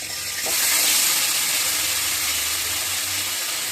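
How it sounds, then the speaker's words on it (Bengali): Marinated chicken with two bay leaves is poured into potatoes frying in oil. A loud, close hiss bursts in suddenly and then holds as a steady, dense sizzle, with no talking. "2টা তেজপাতা দিয়ে এই যে ম্যারিনেট করা চিকেনটা পুরো করে ঢেলে দিচ্ছি"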